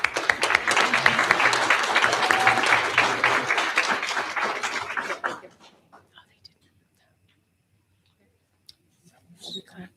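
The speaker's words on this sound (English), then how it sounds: "We clapped anyway." Audience applause at a school district board meeting, a dense burst of clapping with murmuring voices for about five seconds that stops abruptly, followed by near silence and a few faint sounds.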